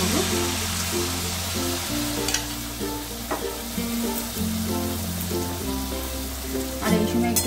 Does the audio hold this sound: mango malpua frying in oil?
yes